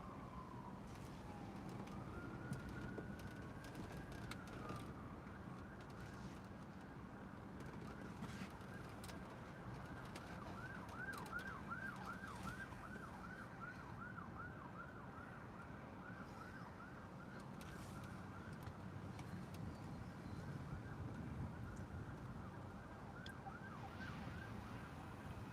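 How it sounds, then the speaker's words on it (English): Emergency vehicle sirens wail steadily across a busy outdoor soundscape, the rising and falling tones repeating for a long stretch at moderate distance, with birds and pigeons calling throughout and no one speaking. "Lots of sirens today, I don't know what's going on."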